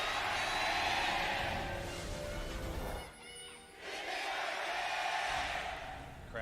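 A large crowd roars inside the Samsung World Gymnasium during a League of Legends finals match, a loud sustained wash of cheering that dips briefly midway, then surges back to full strength.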